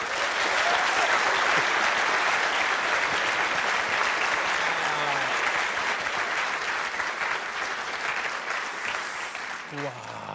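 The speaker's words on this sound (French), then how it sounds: "Merci d'applaudir très fort Morgane Segui" An evening storytelling-show audience claps loudly for a performer, a thick, steady wall of applause running the full length and thinning slightly near the end.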